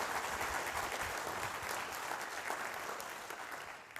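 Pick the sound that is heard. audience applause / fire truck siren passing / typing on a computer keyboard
audience applause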